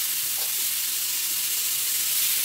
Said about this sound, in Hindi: अब मैं इसको फ्राई कर लूँगी, बहुत अच्छी तरह से फ्राई हो गया